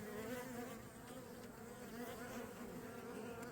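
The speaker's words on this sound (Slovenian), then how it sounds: "So pa res pridne čebelce." Honey bees buzzing steadily in a dense, continuous drone at a hive in spring, as workers bring in hazel pollen; close and fairly loud, with no voices.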